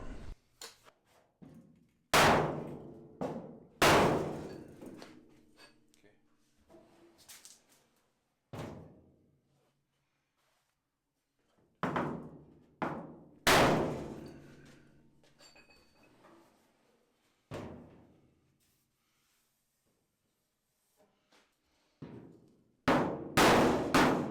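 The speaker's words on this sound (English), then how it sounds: "Just a couple of directed taps with a hammer, big hammer" A big hammer strikes the steel quarter panel of a VW Beetle in a series of sharp, widely spaced blows, some in quick pairs, with quiet pauses between them.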